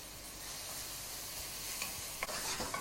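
Vegetables for a vegetarian bolognese cook down gently in a pan with a soft, steady sizzle, and a few light clicks and scrapes of stirring come near the end, with no voices.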